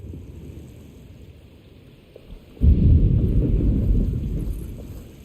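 A sudden heavy thunderclap gives way to a sustained rumbling roll in the Alone in the Dark video game, rising out of quieter rain-like ambience and holding loud for several seconds.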